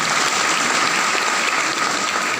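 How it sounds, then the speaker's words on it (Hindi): Loud, dense applause from a seated audience at a Safe Shop business gathering, steady and continuous throughout without a break. "इनके लिए एक बार जोरदार तालियां होना चाहिए"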